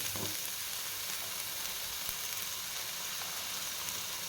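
Gawar (cluster) beans sautéing in hot oil for a Maharashtrian bhaji, a dense, steady sizzle filling the clip at constant loudness, close by, with no talk.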